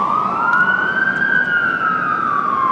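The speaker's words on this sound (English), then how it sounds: "With that, the siren sounded." Fire truck siren sounding loud and close, a steady sweeping wail holding a rising then gently falling pitch throughout, with no voices over it.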